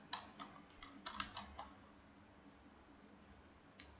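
Typing on a computer keyboard while logging into a CentOS Linux server, a quick run of close clicky keystrokes that trails off into quiet, then one last key press near the end.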